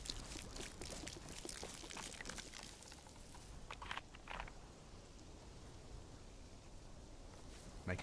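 Water poured out of a bottle in the survival video game DayZ, a steady faint splashing trickle that thins out midway, with scattered soft rustles afterward.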